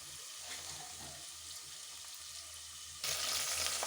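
A handful of garlic sautés in a pan for a fish curry, making a steady close sizzle and hiss that grows louder near the end, with no talking.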